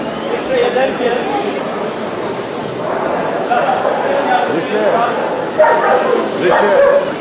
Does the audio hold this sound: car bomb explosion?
no